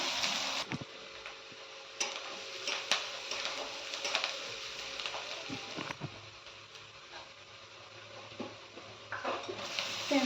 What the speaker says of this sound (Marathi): एक दीड पळी तेल घालणार आहोत कांदा घालून घेऊया तेलामध्ये